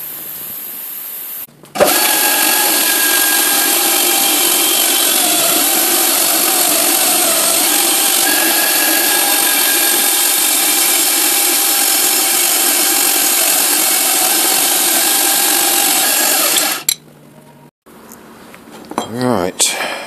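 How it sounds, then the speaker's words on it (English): Machine drilling through holes in a GPIO end plate, a loud continuous high-pitched whine and grinding held for about fifteen seconds before stopping abruptly, followed by quieter clinking handling noises. "Just need to drill through a few of these holes, tap these two to add the guide pins"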